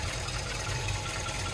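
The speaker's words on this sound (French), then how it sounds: "le moteur tourne comme une horloge" The engine of a 1976 MGB roadster, with rebuilt ignition, cooling and carburettors, runs at a steady, even idle with a low, continuous hum and no talking.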